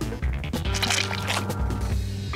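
Liquid drips and squishes onto hands in a VR gorilla tag game, wet splattering textures layered over busy game sounds, continuous and close for a couple of seconds.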